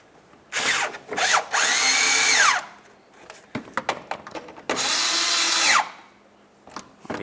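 A power drill whirs in two long bursts and a short one, spinning up and winding down while snugging the fog light mounting bolts on a 2006-2012 Toyota RAV4, with light clicks and handling noises between, close and loud.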